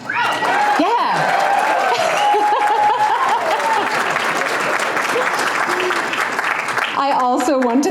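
Loud, dense audience applause fills a runway show venue, sustained throughout with scattered cheers and whoops, then a voice begins speaking near the end.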